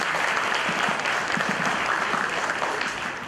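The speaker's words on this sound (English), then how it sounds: "Can we have a huge round of cheer one more time?" A conference audience at a business event gives steady, dense applause with cheering, loud and continuous throughout before fading slightly at the end.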